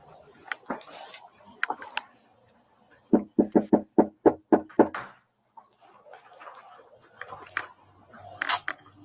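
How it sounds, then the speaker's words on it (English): Knocking on a door: a rapid series of about seven sharp, evenly spaced knocks, preceded and followed by scattered clatter and faint background sounds. "Was he trying to turn the knob after he knocked?"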